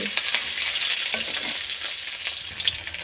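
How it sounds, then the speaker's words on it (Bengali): Chopped onions stirred and frying in oil with bay leaf and chilli, a continuous crackling sizzle broken by light spoon scrapes, close and alone. "পেঁয়াজ কুচি একটু নাড়ানাড়ি করে"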